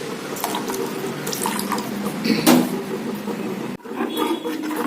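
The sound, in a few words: water being poured into a pan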